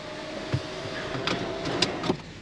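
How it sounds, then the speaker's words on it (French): The sunroof of a BMW X2 M35i closes with a faint, steady electric motor whine inside the cabin, broken by a few soft clicks and light knocks. "On va fermer l'auto-ouvrant pour laisser routier."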